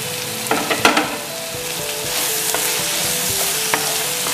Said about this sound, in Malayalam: ഇനി നമുക്ക് ചിക്കൻ്റെ പീസുകൾ അതിലോട്ടിടാം.